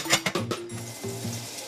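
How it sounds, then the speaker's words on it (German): Breaded trout fillets sizzle in a frying pan, a soft steady crackle under a few sharp clinks of utensils against the pan at the start. "In der Pfanne brutzeln die panierten Forellenfilet."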